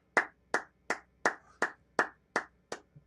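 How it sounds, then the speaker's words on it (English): Nine sharp hand claps in a slow, even rhythm, close and distinct, each separated by a brief silence and with no talking in between. "I'm clapping for Pop."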